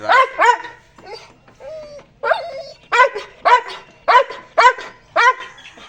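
A dog barks repeatedly in sharp, close bursts, with a few whimpering yips between the louder barks.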